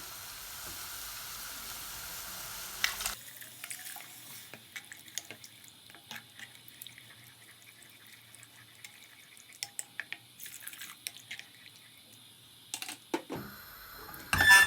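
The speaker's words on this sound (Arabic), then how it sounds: "حاليا راح أضيف عليه المي." Water is poured into a pan of cooked mushrooms thickened with a spoon of flour: a quiet hiss and sizzle with faint drips and splashes, starting with a brief louder burst and ending with another near the end.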